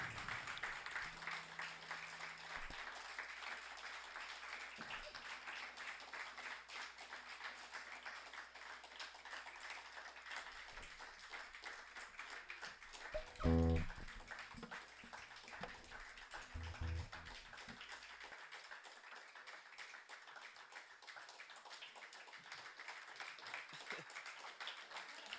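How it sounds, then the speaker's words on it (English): Live concert audience in Bishop Hill, Illinois, clapping in a long, steady, moderately distant patter that runs throughout, with a few louder knocks and thumps midway. "You guys have the longest clap."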